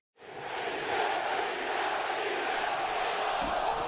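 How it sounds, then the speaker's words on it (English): Eagles fans in the Philadelphia stadium singing Fly, Eagles Fly during a 2008 NFL game against the Dallas Cowboys, a broad sustained crowd chant filling the space from start to finish. "The fans here serenade the Eagles with Fly, Eagles Fly"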